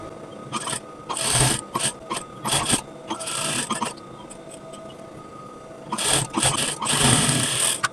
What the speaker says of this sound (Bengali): প্রথমে নর্মাল গলা যেভাবে সেলাই করে সেভাবেই এটা আমরা সেলাই করব